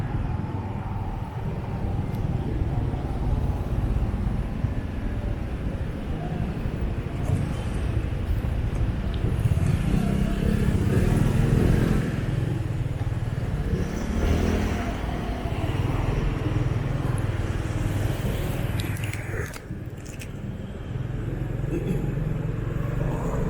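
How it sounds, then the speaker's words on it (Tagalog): A motorcycle rides through city traffic in Cagayan de Oro, Philippines, with a continuous engine drone, wind and passing vehicles, and swells as other cars go by over about twenty seconds. "Ning motor akong isakyan."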